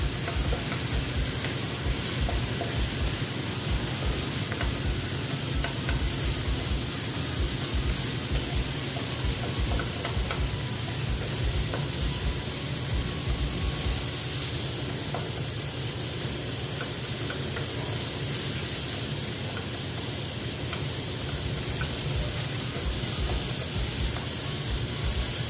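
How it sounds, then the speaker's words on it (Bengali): Spices with turmeric and chili powder sizzle in a pan while being sautéed, a continuous close hiss broken by faint stirring scrapes and taps. It holds steady the whole time, with no talking. "তারপরে দিচ্ছি আমি লঙ্কার গুঁড়ো দিয়ে এবার আবার আমি একটু এটাকে কষিয়ে নিচ্ছি"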